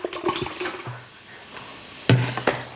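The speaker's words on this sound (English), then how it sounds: "Putting sparkling water in here, is that weird? I'm gonna add the whole bottle and we'll see what happens." Sparkling water is poured from a bottle into a drink with fresh mint and strawberries, giving a short liquid fill that comes in brief bursts with a sharp splash near the end.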